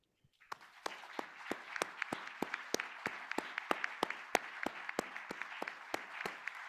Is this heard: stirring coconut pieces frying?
no